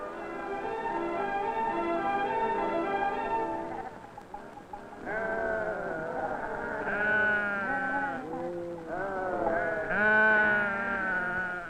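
Goats on a Tibetan trade route bleat over and over in loud, close, wavering cries, several animals overlapping with short pauses between calls and no talking.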